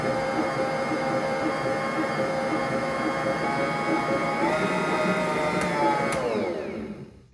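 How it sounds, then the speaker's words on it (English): Bread machine motor whirring steadily as it mixes flour into homemade healthy bread dough, a loud close hum with a constant pitch that winds down and stops near the end. "turn the machine back on and let that combine"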